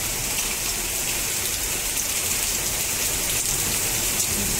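Hail falls steadily during a storm, a dense, continuous hiss of pellets striking surfaces at close range, unbroken and fairly loud throughout with no voices.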